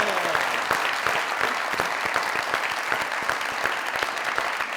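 Studio audience clapping on a comedy talk show as guest couple Hiba Bukhari and Arez Ahmad are called onto a red carpet; dense, lively applause with sharp individual claps standing out, continuous and close throughout.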